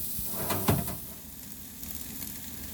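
A thick 1.5-inch prime ribeye steak sears under a 1500°F infrared steak grill, giving a steady, close sizzle with a few brief clatters early on.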